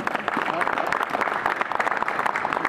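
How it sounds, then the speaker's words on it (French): An audience at a stadium opening ceremony for a youth football club claps for a club official, a steady moderate round of applause with some crowd noise and no clear talk over it. "on peut l'applaudir aussi, je pense."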